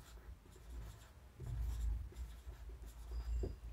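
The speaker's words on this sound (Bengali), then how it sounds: "তো এখানে লিখলাম" Chalk or marker writing on a board during a physics lesson, soft scratchy strokes in short irregular bursts, faint and close, with no talking.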